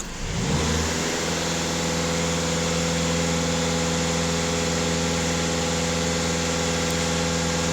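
A Skoda VRS engine, its diesel particulate filter badly clogged and burning oil, revs up and then holds a steady raised rpm just after a regeneration. The hum is loud, close and continuous, with no talk over it.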